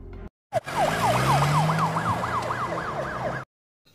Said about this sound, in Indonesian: ambulans segera membawa Angel ke rumah sakit.